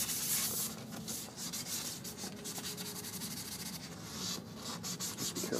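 Close, quiet rubbing of sandpaper worked in circular motions over the satin finish on an acoustic or electric guitar neck, a steady series of soft scratchy strokes with no talk.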